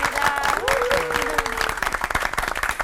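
An audience claps to welcome a pastor of Rodem Church onto a televised lecture stage. The crowd applause runs steadily throughout while a man greets the room.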